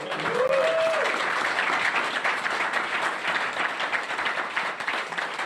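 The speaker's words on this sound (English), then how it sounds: "how about a big round of applause?" An audience at the 2024 IRONMAN World Championship press conference in Kona applauds steadily, a dense wash of clapping that fades slightly toward the end, with a brief whistle early on.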